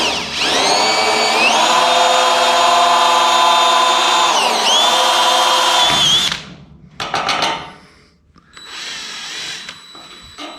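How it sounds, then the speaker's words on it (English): Small power drill boring a pilot hole into a steel spot weld, a loud steady high whine with pitch dips as it bites, running about six seconds then stopping, followed by a few short clatters. "taking a smaller drill, eyeballing the center of that spot weld just to get a pilot hole through"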